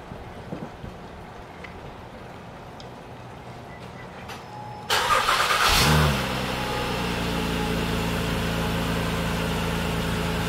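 An Acura MDX fitted with a new K&N air filter cranks and fires up with a sudden loud burst near the middle, then settles into a steady idle hum, with quiet background noise beforehand.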